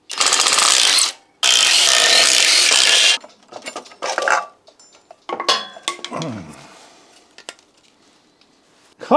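Clutch coming off a Porsche 924: loud bursts of a ratcheting wrench up close, then scattered metallic clinks, clanks and scraping of tools and parts.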